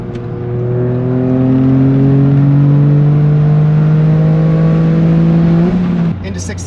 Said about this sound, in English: you can hear the exhaust. It sounds good when you're on it.